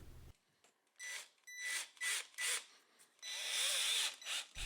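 A cordless drill drives screws in several short bursts of whirring, then one longer run, each burst stopping and starting again, close by.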